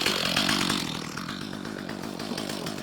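A restored STIHL MS250 chainsaw idles steadily right after a restart, its engine putting out a close, loud, continuous buzzing drone with no talking over it.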